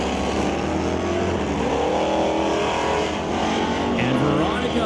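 A drag racing car with a 511 cubic inch Mopar engine roars loud and close at a steady, sustained rev, with an announcer talking over it at a motorsport event.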